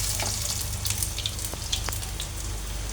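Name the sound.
frying peyaju (onion fritters) in a pan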